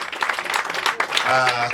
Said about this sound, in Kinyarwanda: Reka rero tubakomera amashyi tubishimire